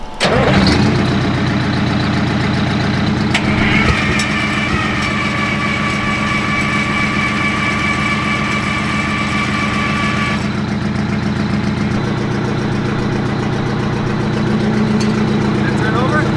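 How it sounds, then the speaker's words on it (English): An old fire truck engine cranks, catches and settles into a loud, steady idle with a rough mechanical drone; a voice talks briefly over the running engine. "click the button and see if it'll turn over"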